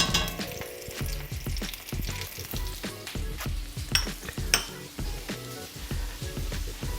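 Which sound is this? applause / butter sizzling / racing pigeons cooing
butter sizzling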